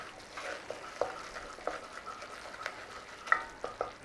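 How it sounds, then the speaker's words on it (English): A flour roux cooking in a pan, soft sizzling with scattered stirring scrapes and light clicks of a utensil, quiet and close. "A nice little cooking on that roux in there, look."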